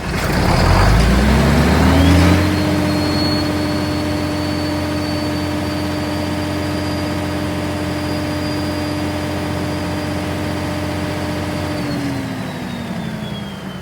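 A John Deere 6090 diesel engine starts with a loud rumbling burst, then settles into a steady, close idle with a constant low drone and a faint high whine, running on alone without speech.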